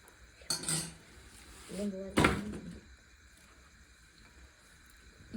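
Mutton curry stirred in a metal pot with a spoon: a couple of sharp clanks and scrapes against the pot, fairly faint, with a voice talking nearby.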